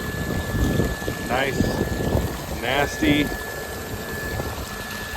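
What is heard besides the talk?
flushing manure water with a pump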